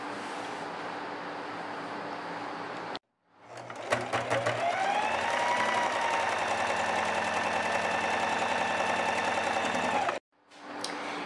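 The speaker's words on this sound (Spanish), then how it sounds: "Vamos ahora sí, a realizar la costura con overlock" An overlock serger stitches a seam along the side of a red garment, running steadily for about seven seconds at close range between short pauses, with a sustained whirring hum and a faint higher whine riding above the motor.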